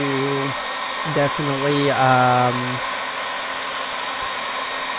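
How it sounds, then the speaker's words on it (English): A hair dryer blows steadily throughout while heating an LG G4 phone, its constant whir under a person talking. "Because even with a hairdryer, you could melt parts of the phone."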